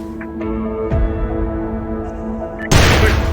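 In the SOCOM Fireteam Bravo 3 video game, a sudden loud blast erupts near the end, cutting through a sustained tonal game soundtrack.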